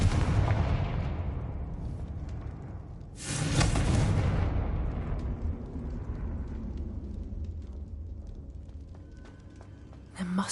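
A Confringo blasting spell goes off in Hogwarts Legacy: a loud, close explosion bursts out about three seconds in and fades into a rumbling tail over steady game ambience.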